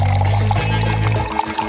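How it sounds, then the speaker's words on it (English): Milk pours steadily onto a chocolate ball in a bowl, a close, continuous liquid stream with a low gurgling tone that shifts partway through and thins toward the end. "Probably you need to pour milk on it."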